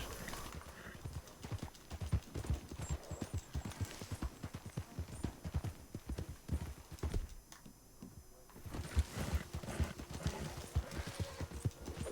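A horse's hooves clip-clop in a steady, close trot in Red Dead Redemption 2, brief pauses breaking the rhythm before it resumes, with a whinny and faint voices in the background.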